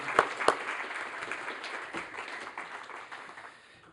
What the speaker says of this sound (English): give Denmark a round of applause